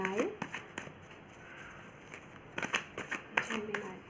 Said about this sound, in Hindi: मैं यहाँ पे फिर से कार्ड शफल कर लेती हूँ आपके सामने